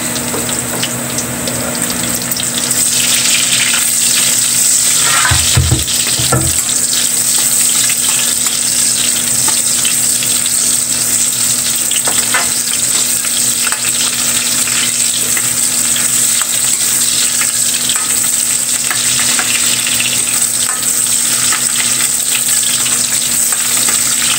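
Sliced onion goes into a pan of golden-brown fried garlic for pork humba, and a loud, constant close sizzle follows, with a brief heavier burst early on as the onion hits the hot oil.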